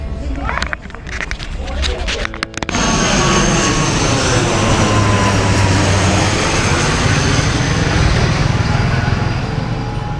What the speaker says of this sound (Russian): О, самолет.